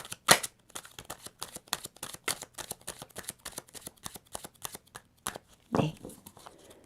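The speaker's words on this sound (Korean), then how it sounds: "타로 카드 또 놓을게요." Tarot cards are shuffled and set down in a quick series of soft, crisp card snaps and slides close to the listener, with a louder flick near the start and another near the end.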